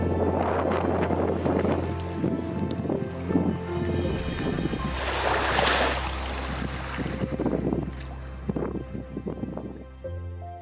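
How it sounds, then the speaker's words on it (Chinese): Water sprays along a coastline on Toyama Bay in Japan, a broad splashing gush swelling midway over steady wind buffeting and a low rumble like a boat engine. "喷水的声音。"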